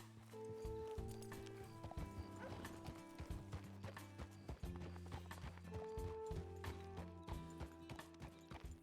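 Horse hooves clip-clopping at a steady walking pace in the RedM video game, continuous and fairly prominent, with a brief whinny and some faint mechanical noise in the mix.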